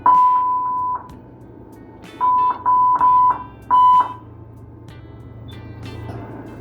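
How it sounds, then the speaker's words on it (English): A PB 980 ventilator in neonatal mode sounds its alarm, a steady mid-pitched electronic tone held about a second, then a run of four shorter repeated beeps, loud and clear over a low hum. "This is to adjust the alarm sound."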